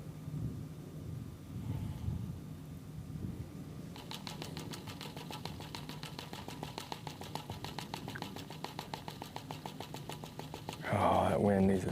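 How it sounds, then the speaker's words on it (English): Gusty wind buffeting the microphone on Lake Hartwell during a bass fishing tournament, a low rumbling roar with an engine-like pulsing hum and a strong gust near the end, voices talking over it. "that wind needs to stop."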